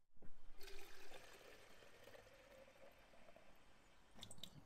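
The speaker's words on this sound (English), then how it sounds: "I'll fill it up with water." Water pouring from a tap or hose into a snow foam container, a steady filling rush that starts strongly and then settles into a continuous trickle, close by and alone, with a faint clatter near the end.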